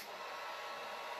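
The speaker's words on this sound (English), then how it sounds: "so I'm just going to heat these with my heat gun" A steady, soft blowing hiss of a heat gun, even and continuous with no breaks.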